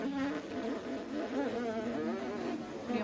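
Group of students buzzing their lips together to imitate bees, a steady mid-pitched droning hum held for a few seconds at moderate distance, with no talking.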